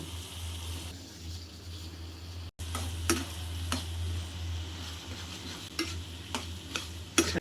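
Spicy chickpeas (chola boot) with gram flour being stirred in a pan, a steady low sizzle under repeated scraping strokes of a spoon, with a brief cut partway through.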